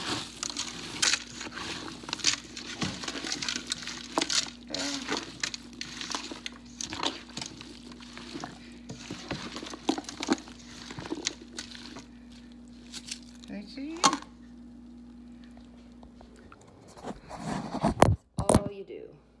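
Hands squish and mix food inside a plastic bag in a home kitchen, producing close, soft crinkling and rustling that comes in irregular bursts over a steady low hum, with a couple of sharper knocks near the end.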